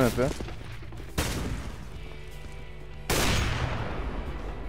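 Gunfire in Counter-Strike: Global Offensive during a one-on-one match: a few loud, sharp shot bursts with ringing tails, the last one heavier and sustained, with a voice speaking briefly at the start.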